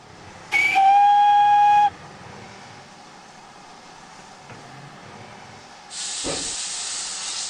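Short fixed recording of a GWR Steam Railmotor's steam whistle in Train Simulator: one loud, shrill tonal blast lasting over a second, then quiet ambient rumble, followed by a strong burst of hissing steam.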